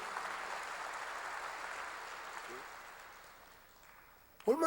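A church congregation applauds during a sermon, a broad wash of clapping that slowly fades, followed by a brief burst of sound at the end.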